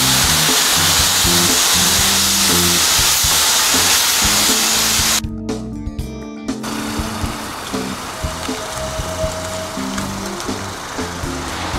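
A pressure spray wand at a self-service car wash rinses foam off a car with a loud, close, continuous hiss. The hiss drops away about halfway through, leaving a quieter wet wash-bay background.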